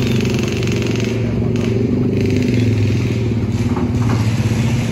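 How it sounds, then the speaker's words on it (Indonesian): A dense, steady drone of many motorcycle engines running close by at Merak port, a continuous loud rumble with overlapping exhaust notes. "Banyak motor, masih banyak motor, masih banyak motor."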